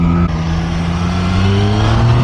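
A 2023 Triumph Street Triple 765 RS motorcycle accelerates, its engine note loud and close, holding a strained, rising whine over two seconds with a brief dip as it shifts.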